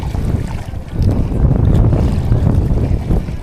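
Strong wind buffeting a microphone out at sea on a fishing boat, a steady loud low roar with gusts swelling after the first second and no talk.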